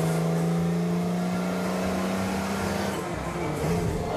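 A Zagato lightweight sports car drives with a steady engine drone and sustained tonal hum, loud and close throughout, with a slight dip near the end.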